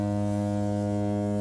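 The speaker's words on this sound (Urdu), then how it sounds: "اچانک ہارن کی آواز سنائی دی" A deep, sustained horn blast in a children's story, one loud steady tone rich in harmonics that holds for the whole stretch without a break, heard alone with no talk.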